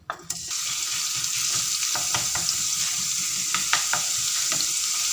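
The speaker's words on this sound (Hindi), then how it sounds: "अब हम इसमें लहसुन का पेस्ट जो मैंने आपको बताया था वो डाल देंगे।" Garlic paste dropped into hot oil in a pan sizzles and crackles steadily up close, a continuous hiss with scattered pops and stirring clicks, no talking.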